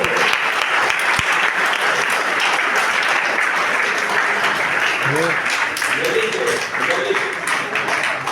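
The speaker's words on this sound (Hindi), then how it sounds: "सर जब तक बाहर नहीं पहुंचे तालियां बजती रहे" Sustained crowd applause at the close of a police superintendent's motivational speech for a fitness week event, many hands clapping loudly and continuously, with a few voices rising briefly over it near the end.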